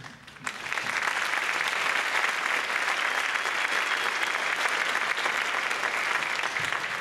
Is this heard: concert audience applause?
yes